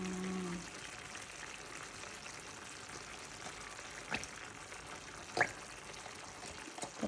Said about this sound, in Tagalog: Now, pour natin yung ating cream.